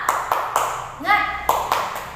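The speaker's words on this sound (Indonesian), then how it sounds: "Sekali lagi, tepuk semangat." Sharp hand claps ring out in a short rhythmic classroom spirit-clap pattern during a teaching practice session. A voice chants in a sung tone between the clap groups.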